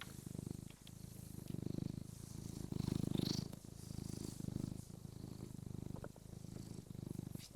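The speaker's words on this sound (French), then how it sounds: "Ça, c'est pour nous mettre dans l'ambiance. C'est un bon ronron de chat." A cat at a cat café purrs up close in a steady rhythm of soft, rumbling cycles, each breath in and out audible as a gentle pulse.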